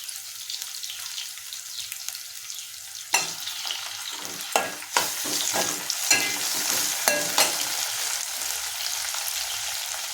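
Tomato dropped into a hot pan for a Kabuli chana and brinjal curry, a sharp burst of sizzling at the start, then steady frying with repeated stirring scrapes and clacks throughout.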